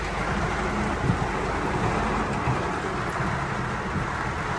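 A steady, dense rumble of a heavy freight train rolling past, blended with the hiss of heavy rain over farm fields, continuous for several seconds with no voices.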